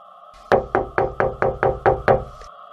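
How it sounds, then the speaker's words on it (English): Knocking on a car window in a horror story: seven sharp, close knocks in a steady, evenly spaced rhythm over a faint low hum, with no voices. "He knocked again, harder this time."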